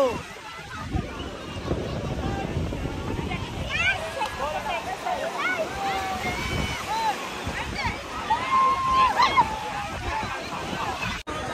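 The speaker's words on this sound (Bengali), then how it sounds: "সামনে ঢেউ দেখো" Sea waves wash and slosh continuously at crowded Digha beach while people talk nearby over the steady surf.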